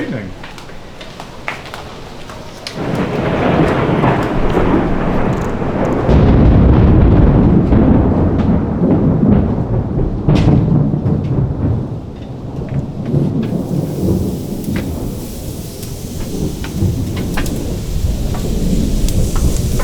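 A loud thunderstorm in Mexico, with a deep rumble of thunder that swells over heavy rain and then fades, followed by a sharp crack. Steady rain hiss continues underneath the whole time.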